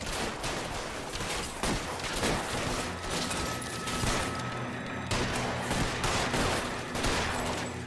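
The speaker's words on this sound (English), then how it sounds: "Seems like there's a shooting happening." Dense, sustained gunfire from a shootout in the video game L.A. Noire, with a rapid fusillade of overlapping shots that stays loud and continuous throughout, with no talking.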